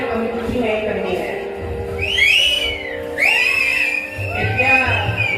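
Audience members whistle at a Ramlila stage performance in Sunoli, with several shrill rising whistles cutting sharply above a steady crowd murmur and scattered voices.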